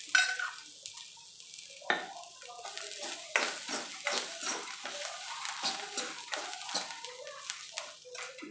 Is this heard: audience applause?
no